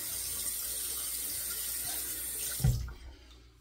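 A tap runs steadily into a sink during handwashing, a close, even hiss of flowing water that ends with a soft knock as it is shut off, leaving a faint quiet tail.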